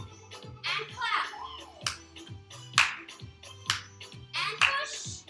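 Sharp hand claps on the beat during a seated chair Zumba Gold class, several crisp claps spaced through upbeat rhythmic music with voices talking over them.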